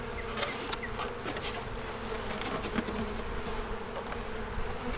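Gentle Carniolan honeybees buzz around an opened hive in spring, a soft continuous drone of many wings with occasional individual bees passing close by.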